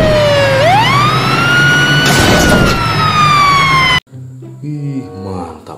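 A toy fire truck with a ladder sounds its siren, a loud rising wail that settles into a sustained electronic tone for about four seconds, then cuts off abruptly, leaving quieter toy sounds and clatter.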